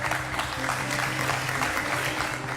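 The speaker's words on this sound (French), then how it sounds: "Est-ce qu'on peut applaudir," An audience applauds a weeping diva on stage at a show, a dense continuous patter of clapping with a steady murmur of voices underneath.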